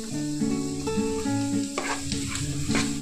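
Pav bhaji ingredients sauté in a pan on a gas stove, giving a steady sizzle with stirring scrapes and a few sharper clatters near the end, under continuous tonal background music.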